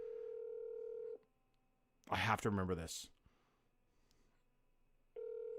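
Telephone dialing tones sound as a steady tone, then a break for a short spoken phrase, then the tone returns near and clear.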